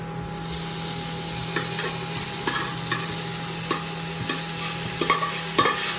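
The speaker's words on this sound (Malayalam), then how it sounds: "നമ്മൾ ചൂടാക്കി വെച്ച ബീഫ് നമ്മൾ ഇടാൻ പോകുന്നത്." Pre-heated, fatty beef goes into a thick spicy curry that has simmered on low flame with tapioca, and it sizzles steadily in the pot. Clear stirring scrapes and knocks recur throughout with a constant low hum behind, and no voices.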